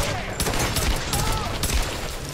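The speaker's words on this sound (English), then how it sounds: "I'm getting my gun out and I'm just gonna mow down" Dense, continuous gunfire from a gun in the video game Tomb Raider 2013, a loud burst of rapid shots running the full length without a break, with game noise close behind.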